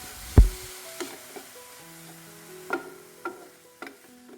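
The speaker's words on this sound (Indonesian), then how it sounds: "Aduk rata kemudian tumis kembali hingga ikan tunanya berubah warna" Tuna stir-frying in a pan with sugar, salt and black pepper: a sharp knock opens, then sparse spatula scrapes and clinks against the pan, close and fairly quiet, over a faint sizzle.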